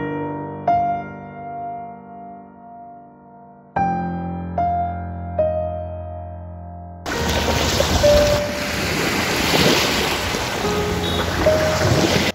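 Soft melodic tones ring out and fade, then a loud, steady rushing of ocean surf and wind at Manpura Dakshina Hawa sea beach takes over and continues to the end.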